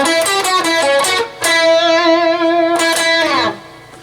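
Distorted electric guitar plays a lead lick from a song, with quick picked notes, then a long sustained note with bends and vibrato, and a final slide. Loud and close, with no speech.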